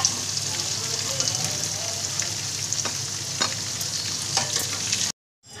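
Leftover chicken pieces frying in oil in a pan for Afghani chicken, a steady close sizzle with scattered crackles and occasional stirring scrapes, ending abruptly in near silence.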